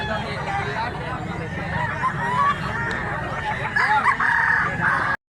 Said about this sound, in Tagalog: Daming mga manok.